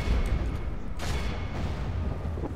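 Imperial cannons in Total War: Warhammer fire in a battlefield din, booming blasts thudding over a dense rumbling backdrop, with one sharper report standing out near the middle.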